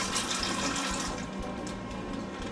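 Kidney beans tipped into water in a roughly 3-quart cooking pan, giving a rushing, splashing pour that is loud at first and then eases off, with no talking.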